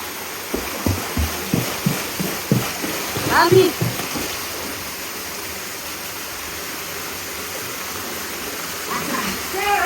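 Steady rushing water from a waterfall fills the background, with a person's voice speaking intermittently over it near the start.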